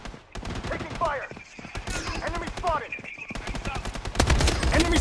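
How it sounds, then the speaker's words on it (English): Rapid bursts of automatic gunfire crackle in the Blood Strike multiplayer shooter, with sharp repeated shots and a heavier volley at the end. Game voice callouts and effects are mixed in. "Taking fire"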